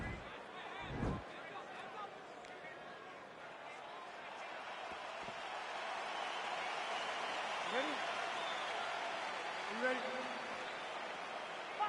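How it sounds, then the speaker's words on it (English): Steady arena crowd noise with a cheering swell at the start of a UFC welterweight fight in the video game UFC 4, a broad continuous roar at moderate distance under a commentator's voice. "crowd getting excited as this fight gets underway"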